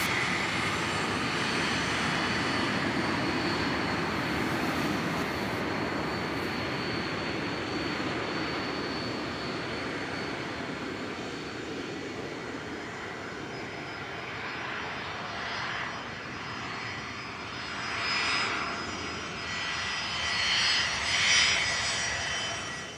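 A British Aerospace Avro RJ100 jet airliner takes off from runway 03 at Perth Airport, giving a steady, loud broadband engine roar that holds throughout and swells slightly near the end.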